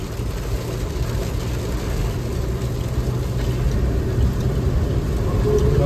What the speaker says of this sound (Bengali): এই যে একদম জোরে বৃষ্টি নেমেছে